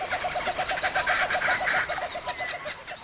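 Dense rainforest ambience with steady birdsong and repeated cooing calls, a loud continuous chorus of chirps filling the background.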